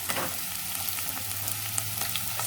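Red onion and red capsicum fry in oil in a pan, giving a steady, moderate sizzle with faint crackles throughout and no voices.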